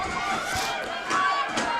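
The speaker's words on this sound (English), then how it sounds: "as the crowd ramp up the noise" Crowd noise swelling at a women's National League rugby match between Cardiff Met and Edinburgh, a steady broadband roar of spectators with a louder surge midway, continuous and fairly close across the short stretch.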